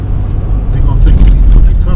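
An old car drives down a street in a former drug and gun hotspot, its engine rumble loud and close, steady throughout, with people talking faintly underneath.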